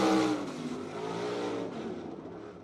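A dirt track race car at BAPS Motor Speedway in York Haven, PA, on a qualifying lap, its engine roaring loudly up close at first, then holding a steady drone that fades slightly.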